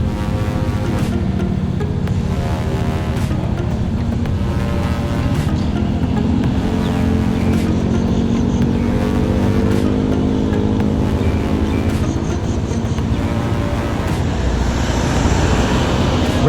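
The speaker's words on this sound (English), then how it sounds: "Traffic moving off of Jom Tien 2nd Road." Cars and motorcycles pull away from a traffic light at a Jomtien intersection in Thailand, a loud, continuous engine roar with rising revs as vehicles accelerate past close by.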